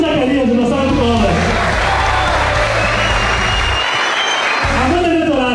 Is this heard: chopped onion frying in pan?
no